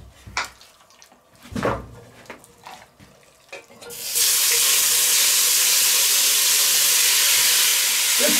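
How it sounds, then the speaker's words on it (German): After a few seconds of clattering and handling, a loud, steady sizzle of meat hitting a hot pan takes over and continues evenly. "Jetzt braten wir uns auf zwei Portionen schön an."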